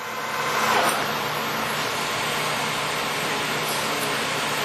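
Polamco 18x80 gap lathe turning slowly at 18 RPM, giving a steady, fairly loud broadband hum and whir of motor and machinery throughout, with no distinct rhythm and no voices.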